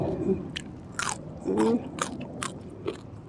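Crispy fried chicken skin and deep-fried kale flowers are crunched and chewed close up, several sharp crackling bites spaced across the few seconds with mouth noises between them.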